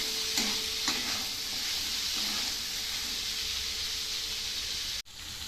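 Chickpeas with chaat masala sautéing in a hot pan, giving a steady close sizzle and hiss with a few scraping stirs early on, then an abrupt cut just before the end.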